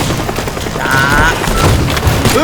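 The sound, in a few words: gunfire in the video game Teardown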